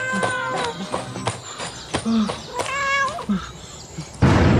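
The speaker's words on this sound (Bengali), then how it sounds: "চলো বিড়ালের বাচ্চা" A cat meows repeatedly in short, rising and falling cries, loud and close, with a thump and a burst of noise near the end.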